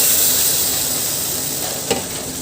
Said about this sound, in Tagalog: kumukulo na ang ating tubig